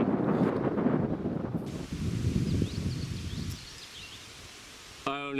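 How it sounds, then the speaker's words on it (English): Wind gusts across a mountain ridge in Dolly Sods at about ten miles an hour, a loud rushing roar buffeting the microphone that fades to a calmer hiss before a brief sharp noise at the end. "We've got about a 10-mile-an-hour wind going through here."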